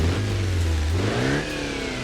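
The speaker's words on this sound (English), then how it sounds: "It definitely sounds like those rattly van engines, but I'm not sure it sounds like a 5-cylinder" A 5-cylinder 2.4-litre diesel van engine in a driving game revs steadily up, then drops slightly and holds a rattly mid-pitched drone, loud and continuous with no talk.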